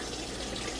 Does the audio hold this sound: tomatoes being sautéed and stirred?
no